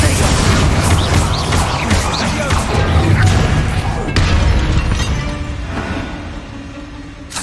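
Confringo and Bombarda explosion spells in Hogwarts Legacy go off as loud, dense bursts and booms, crashing and thudding close up within a constant wall of battle noise that eases off toward the end.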